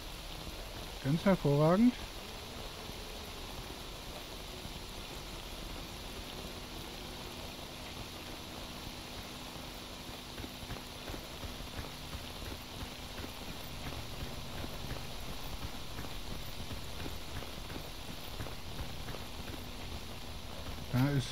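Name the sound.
rain at night in STALKER Anomaly video game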